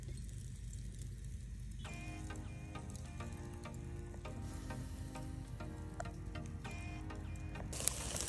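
Chicken barbecuing outdoors at a campsite by the Inland Sea in Qatar, giving a steady close sizzle and crackle throughout, with faint clinks and background noise, and no talk.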